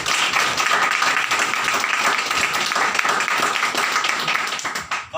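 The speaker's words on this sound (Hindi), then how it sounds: "एक बार तालियां हो जाए।" An audience claps steadily when a guest named Devendra is invited up at an event, the applause dense and sustained, thinning out near the end with faint voices beneath.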